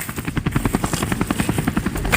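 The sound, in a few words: helicopter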